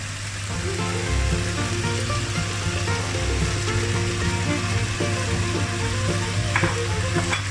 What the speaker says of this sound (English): Now the veggies are half cooked now. I'm going to add in the cooked lamb.